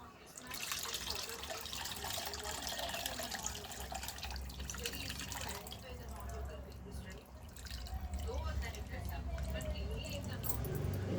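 Water poured into a pot of Telangana-style fish curry (chepala pulusu), a steady splashing, trickling flow that runs throughout with kitchen noise, fairly close.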